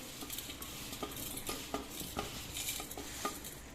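Ground spices and lemons being mixed by hand into a red chilli pickle, quiet repeated scraping and clinking strokes in a steady rhythm, close and faint, with no talking.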